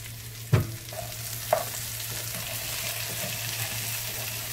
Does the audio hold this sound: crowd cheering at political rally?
no